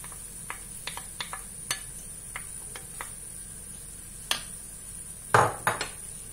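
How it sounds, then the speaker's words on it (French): Tomato goes into a pan of softened, translucent onions for a kefta tajine, heard as a scattering of light utensil clicks and taps, then one louder clattering burst near the end, with no talking. "Maintenant, on va rajouter la tomate"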